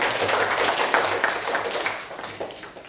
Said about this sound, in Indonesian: tepuk tangan dulu untuk Sakinah